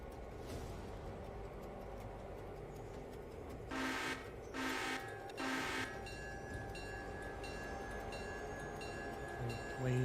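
A passenger train in a video game rolling along its track, a low steady rumble with several short horn toots midway and a faint tonal hum, under light background noise.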